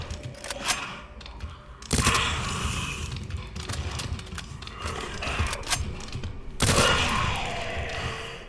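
An SMG fires rapid bursts in Resident Evil 2, with sharp repeated shots, two loud onsets and clattering mechanical reload sounds amid a busy game soundscape, with no speech.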